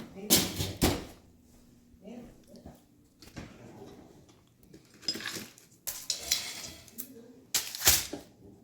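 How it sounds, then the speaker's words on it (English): Dishes and cutlery clatter in a home kitchen as a cooked quesadilla is taken out of the oven, with sharp bursts of metal and plate knocks spread across the clip and people talking between them. "We are taking the quesadilla out of the oven."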